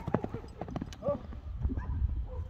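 Horse hooves clip-clop close by as a horse arrives at an ulak horse event in Ak-Terek, giving quick uneven hoofbeats over a noisy outdoor background with voices.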